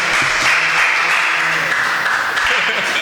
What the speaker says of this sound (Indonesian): Tepuk tangan untuk Bapak Muhammad Ali Shodiq.